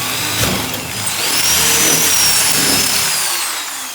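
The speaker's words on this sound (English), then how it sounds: "Drill it through both pieces of metal" A drill bores a 1/8-inch hole through sheet metal on a 1957 Jeep Willys body panel, a loud, close, continuous whirring grind that swells and holds for a few seconds.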